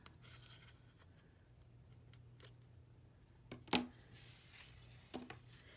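Quiet snips of ribbon scissors trimming the tails of a ribbon: a few soft, separate cuts and rustles in a hushed room.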